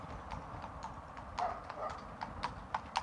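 A horse walks along a rural Dutch road near Utrecht, its hooves clip-clopping in an even, moderately paced rhythm, fairly quiet and close by.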